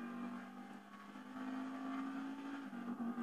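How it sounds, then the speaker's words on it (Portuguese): A Massacro stock car in GTA V accelerates hard, its engine tone climbing steadily in a loud, continuous revving whine with small dips as it picks up speed. "a arrancada é muito boa e ele pega velocidade bem rápido"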